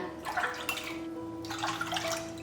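Water is poured into a cooking pot, three 300 ml bowls in all, making soft, close splashing and trickling in two short bursts with a brief pause between them.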